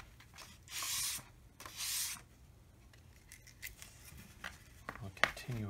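Two loud rasping sanding strokes across a Squier Mustang guitar neck, each lasting about half a second, followed by quieter scraping and handling noises up close.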